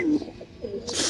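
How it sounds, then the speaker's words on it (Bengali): An Iranian homa pigeon gives a short, close, throaty coo with a wavering pitch, ending in a brief airy rush of sound. "দর্শক দেখেন কবুতরের ডাকটা দেখা যায়, ইরানি হোমা কবুতর না?"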